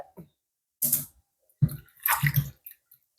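Green chilies and potatoes being washed by hand in water, in a few short bursts of splashing and swishing with quiet gaps between them.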